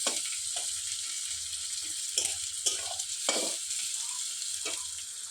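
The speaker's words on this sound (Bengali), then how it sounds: "পেঁয়াজটা লাল লাল করে ভেজে নিই।" Chopped onions frying in a pan, a constant hiss of sizzling oil with repeated scraping strokes of a spatula stirring them, close and fairly loud.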